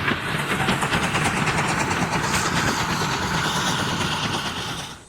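A steam train on a heritage line rumbles past at close range, a steady dense roar of engine and wheels with faint rhythmic clatter, sustained loud throughout before easing off at the very end.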